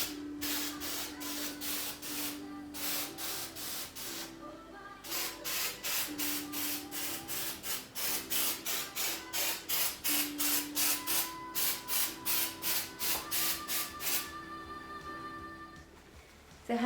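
A can of snow spray hisses in repeated bursts onto a Christmas tree being flocked, short sprays in a steady rhythm with brief gaps between them, close and loud, with no talking.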